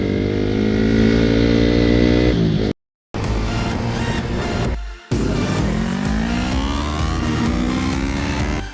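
A Honda Supra GT motorcycle revving and accelerating hard on an open road, its engine note rising through the gears with two brief dropouts, loud and close with no talk.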